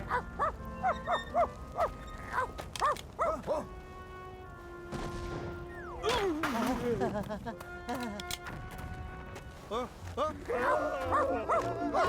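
A cartoon captain's dog barks repeatedly in a cartoon scene, sharp yips and whimpering barks in bursts, mixed with voices and music.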